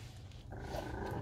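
A 21-day-old Chow Chow puppy lets out a low, close growl that begins partway through and continues steadily to the end, soft and rumbling over a quiet background.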